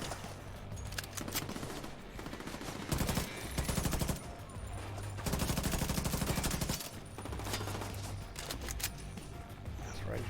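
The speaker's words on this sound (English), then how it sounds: "my turret will be shooting back the other way" An automated turret in The Division 2 fires sustained rapid bursts of gunfire, loud and dense, with brief pauses between volleys and dull impacts mixed in, while a voice talks quietly underneath.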